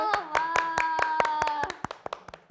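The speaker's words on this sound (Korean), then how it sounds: "박수 주세요." Sharp, evenly spaced handclaps from a small studio group ring out over a held musical tone, then continue alone and fade toward the end.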